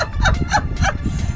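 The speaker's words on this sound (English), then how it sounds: "My chicken got loose." A loose farm chicken or turkey-like fowl calls in a few rapid gobbling, clucking bursts, fairly close and loud over a rumbling background near a dyno run.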